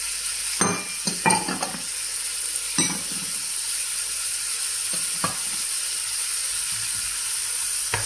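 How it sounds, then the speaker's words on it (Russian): A quiet steady sizzle of chopped tomatoes stewing with vegetables in a pan, broken by a few clinks and scrapes of stirring near the start. "Помидорки наши тушатся."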